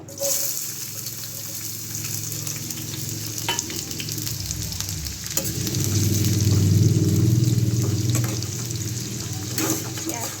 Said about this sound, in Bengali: তেল গরম হয়ে গেছে আমি দুটো পেঁয়াজ কুচিয়ে রেখেছি পেঁয়াজগুলো ভেজে নেবো